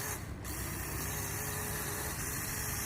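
Motors of a JJRC H103 toy drone-car run on the ground, making a loud, constant, close-up whirring buzz that holds steady the whole time.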